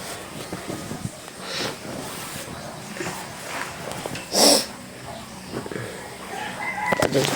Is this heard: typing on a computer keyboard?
no